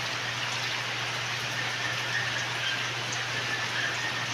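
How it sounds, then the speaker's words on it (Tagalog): Heavy rain pours down steadily, a dense even hiss with a low constant hum beneath it, unbroken across the whole stretch and with no voices. "Ang lakas po ng ulan."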